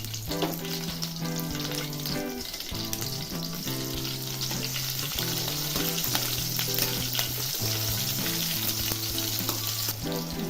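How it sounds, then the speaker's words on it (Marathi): Hand-broken green chilies frying in a pan for sabudana khichdi, giving a constant sizzling hiss with a melodic tune playing underneath the whole time. "आता त्यामध्ये मिरच्या टाकणार आहे मी अशा तोडूनच टाकणार आहे"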